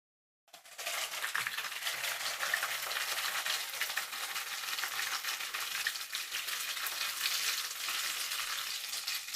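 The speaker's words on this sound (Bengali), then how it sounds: "চিংড়ি মাছের দুই পাশটাকেই জাস্ট আমরা 2 মিনিট মতো ভেজে নিব।" Prawns frying in hot oil in a pan for a prawn curry, a loud, steady, dense sizzle that starts abruptly and continues unbroken without any talking.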